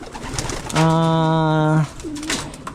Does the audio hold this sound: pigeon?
yes